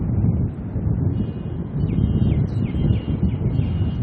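Wind buffets a microphone at an airport, a loud continuous low rumble with gusty swells throughout and faint high chirps above it.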